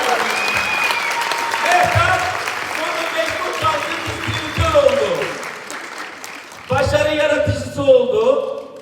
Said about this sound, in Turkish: Büyük alkışlarım